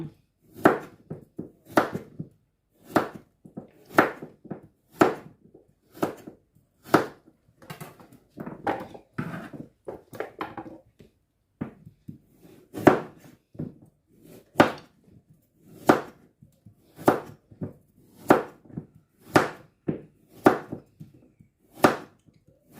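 A knife chops carrots into bite-size pieces on a cutting board, sharp regular thuds repeating close by, with a brief stretch of quieter shuffling midway.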